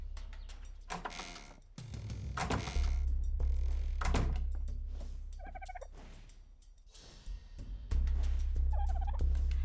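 A creature prowls inside a player's base in the game ARK, giving repeated gobbling, turkey-like calls over a loud steady low rumble of game ambience, with some clattering noises between the calls.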